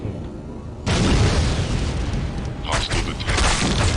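Explosions boom through a firefight in the video game Aliens vs Predator 2: Primal Hunt, a sustained low rumble of blasts with a sharp burst about a second in and more bursts later, with talk underneath.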